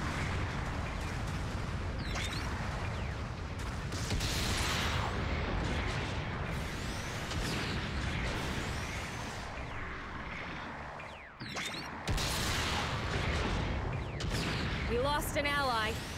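Supporting artillery fire in a Gundam mobile suit video game, a dense and continuous rumble of booming blasts and gunfire that holds steady throughout, with brief game voice announcements over it.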